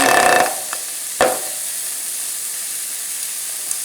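Chicken thighs sizzle skin down in a dry pan with no butter or oil: a brief burst of frying at the start, a short flare a moment later, then a steady, quiet hiss.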